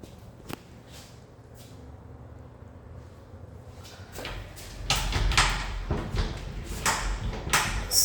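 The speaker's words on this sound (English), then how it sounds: "There's some damage here on this sliding door." A damaged sliding door in a residence is worked open and closed, giving a few sharp knocks and scraping rolls that grow louder and busier toward the end, with no talk over them.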